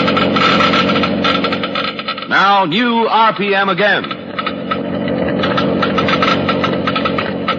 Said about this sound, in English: Listen now as the Geiger counters click off the difference.